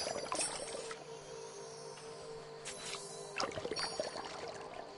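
Water pours from a watering can onto garden flowers in a soft, steady trickle that swells and splashes in a few bursts, close by and fairly quiet with no voices.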